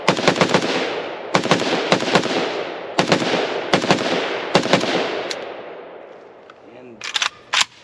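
An Arsenal SAM5-62 rifle fires a magazine outdoors on a range: loud, sharp shots in quick irregular bursts and pairs, each trailed by a ringing echo, with a short pause before a final few rounds.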